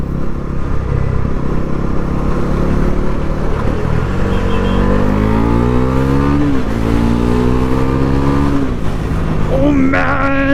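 A Bajaj NS400Z motorcycle accelerates hard, its engine note climbing steadily in pitch through repeated upshifts up to about 80 km/h. The loud, close exhaust roar continues with no talking.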